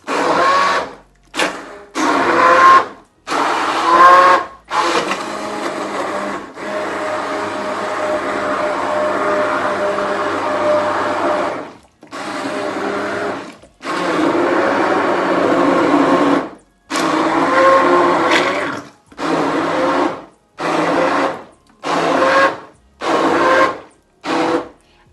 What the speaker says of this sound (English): So this is a Kenwood, blender stick, and I just going to blend the whole thing up with this.